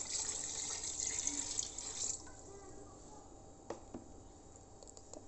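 About a liter of water poured into a Noxxa pressure cooker over diced meat, a steady close splashing stream that eases into quieter trickling with a few drips near the end.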